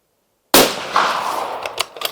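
One sharp, loud rifle shot from a Sauer 505 chambered in .308 breaks the silence, followed by a decaying outdoor rumble and a few faint clicks as the echo fades.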